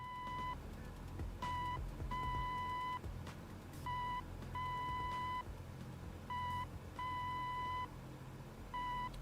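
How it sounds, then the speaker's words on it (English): Steady electronic beeps of a radio range navigation beacon in Microsoft Flight Simulator, heard from a PMDG DC-6 cockpit, sounding as clean repeated tones in long and short bursts over a constant low engine drone. "What's the beeping? That is the sound of a radio range."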